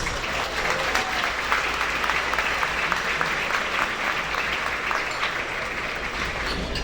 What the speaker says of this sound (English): So again, another round of applause for our sponsors.